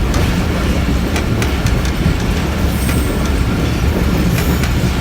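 A Pakistan Railway train runs along the tracks near Landi railway station, with a loud, continuous low rumble from inside, rhythmic wheel clatter and occasional thin squeals of the wheels.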